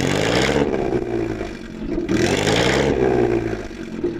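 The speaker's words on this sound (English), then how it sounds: "And finally, Mike, rev up your Blower." A supercharged blower car engine at a drag race meet revs hard in two loud, rising bursts that briefly fall back between them, with no talking.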